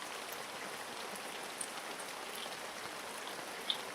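Rain falls steadily in a soft, even patter, with an occasional nearby drop standing out above the constant background hiss.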